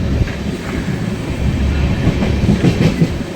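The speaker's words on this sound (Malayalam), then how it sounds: "ഇങ്ങനെ ട്രെയിൻ എടുത്തു" A moving train rumbles steadily with rhythmic clickety-clack of wheels over rail joints, loud and close, with no voices, travelling past Ottapalam and across the Bharathapuzha river.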